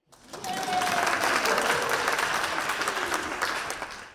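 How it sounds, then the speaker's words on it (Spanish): Sustained applause from an audience at a Three Minute Thesis competition final, a dense, steady wash of clapping that swells quickly and holds for several seconds before tapering. "¡Podéis aplaudir!"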